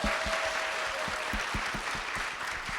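A seminar audience in a lecture hall gives steady, dense applause, many hands clapping together at close range with no break.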